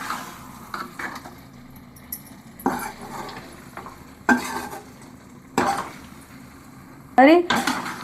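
A spoon or spatula scrapes and stirs egg chukka in a pan over a low flame, giving intermittent clanks and scrapes in short bursts separated by quieter gaps, close and moderately loud.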